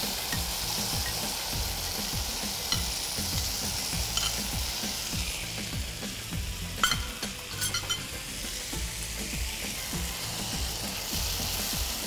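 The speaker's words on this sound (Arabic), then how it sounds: "هلأ بدي حط الصوص توماتو فوق البصل" Tomato sauce frying over onions in a pan for dawood basha, a steady loud sizzle with rhythmic scraping strokes of a spoon stirring throughout, close up, no voices.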